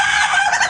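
A serama chicken crows loudly and close by, in one brief, bright, strained burst with no talking over it.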